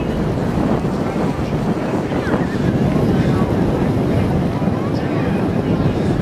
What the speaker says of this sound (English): We're seeing a little bit more wind this afternoon.